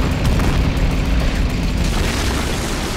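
Tank destroyer shell striking a Panther tank in the Men of War battle game, a loud, dense boom with a rumbling low-end wash that fills the whole stretch without pause.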